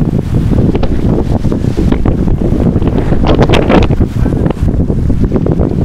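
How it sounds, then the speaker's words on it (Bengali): Strong wind roars without a break across an open hillside trail at Tapang in Odisha, loud and close, with constant gusty buffeting on the microphone and no one talking. "দারুণ হাওয়া দিচ্ছে।"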